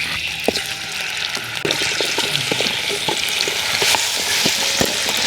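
Okra is frying in oil in a pan, a loud and steady sizzle close by, with scattered pops, scraping and stirring noises running throughout. No voices are heard.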